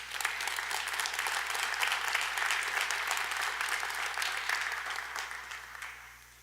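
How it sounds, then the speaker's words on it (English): Sustained applause from a large audience at a city State of the City address swells and holds, then gradually tapers off, over a low steady hum. "That's what deserves a round of applause"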